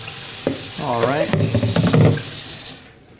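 A faucet runs water into a small saucepan holding rice, a steady hissing rush that cuts off near the end, with a voice talking over it briefly.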